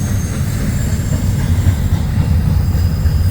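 A northbound FEC freight train rolls past close by, its steady low rumble and rail noise filling the scene with continuous wheel clatter and no talk.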